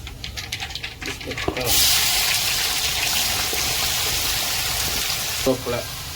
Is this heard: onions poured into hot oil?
yes